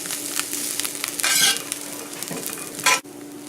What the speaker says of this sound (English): You want to cook this until the onions are soft.